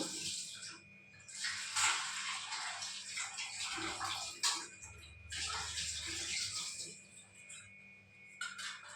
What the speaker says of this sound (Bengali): আলুগুলো ভালো করে ক্লিন করে নেব